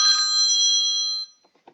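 A mobile phone rings once during a role-playing game session, a bright steady electronic tone lasting about a second before cutting off, followed by faint small clicks.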